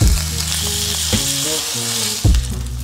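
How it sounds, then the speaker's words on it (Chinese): Rolled beef, bound tight, sears in a hot pan with a loud continuous sizzle, broken by a couple of sharp bursts as the meat shifts or is turned, with no voices. "第一遍把肉煎至定型，表面要煎出焦褐感"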